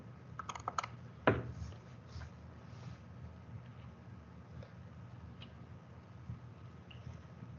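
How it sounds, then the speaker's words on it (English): Someone types on a computer keyboard during an online expense-approval training session. A short burst of quiet key clicks comes near the start, then fades into a faint steady room hum. "You have someone typing?"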